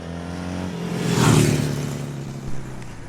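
A Ducati Monster motorcycle engine rumbles nearby, swelling briefly as it revs and then easing back to a steady low drone.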